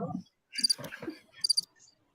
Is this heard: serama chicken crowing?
no